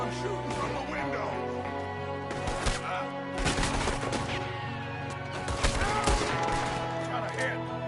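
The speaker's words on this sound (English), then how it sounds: "There's another one shooting from the window." Gunfire in the video game Red Dead Redemption 2, a shootout with repeated loud gunshots and sharp cracks in quick bursts over a continuous background of game music and ambience.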